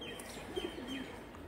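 Andhra Lambadi pigeons give soft, low cooing calls, faint and brief against a quiet background hum.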